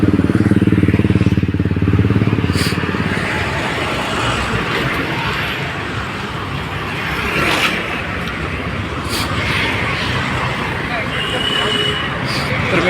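Motorbike ridden along a road toward Arnala beach in Virar, a steady engine drone and road noise with wind, a louder rumble at the start and faint surrounding traffic and voices throughout.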